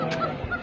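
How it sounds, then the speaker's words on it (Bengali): Ducks at a village livestock market in Kedarpur, Nagarpur, give short, close honking quacks in a brief burst, with no talking. "এখানে দেখা যাচ্ছে শুধু হাঁস আর হাঁস।"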